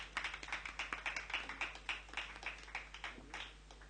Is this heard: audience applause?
yes